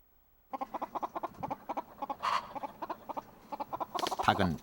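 Chicken in a mountain village clucking in a quick series of short, rhythmic clucks, close and fairly quiet, ending in a brief louder squawk.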